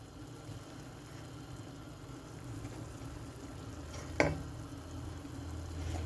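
Steady low sizzle of chicken frying in cottonseed oil for tantuni runs throughout, with a brief sharp clink or scrape near the end; no voices.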